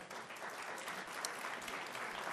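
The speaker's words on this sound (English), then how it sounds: "let's give a round of applause to the dynamic" Applause from an audience at an awards ceremony, a continuous wash of clapping held fairly quietly and evenly through the whole short stretch.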